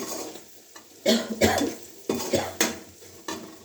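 Peas added to a pan of spices with coriander powder and stirred, several distinct clattering bursts of a spoon knocking and scraping the pan amid a soft sizzle, with quiet gaps between.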